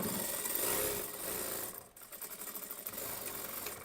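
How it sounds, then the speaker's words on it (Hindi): A sewing machine stitches an Anarkali kurti fabric, running in a fast, continuous close-up whir that dips briefly midway before resuming at a steady pace. "यहाँ पर सिलाई करना है।"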